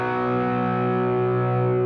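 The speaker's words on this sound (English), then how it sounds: "when you bring in a boost you get, like, you know, a nice saturated overdrive" Electric guitar through an SD1 overdrive pedal with a boost engaged, giving a thick, saturated sustained chord that rings steadily and loud on its own.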